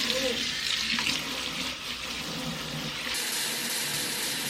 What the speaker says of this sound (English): I'm gonna fill up the sink with some hot soapy water